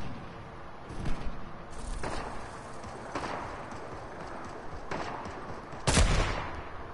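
Scattered gunfire in the battle royale video game Fortnite, a handful of separate shots a second or so apart, with a louder sharp blast near the end, over a low background rumble.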